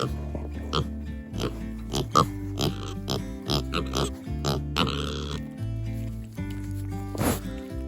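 Pigs on a homestead grunting and oinking in short repeated bursts, close and fairly loud, with some rustling between the grunts.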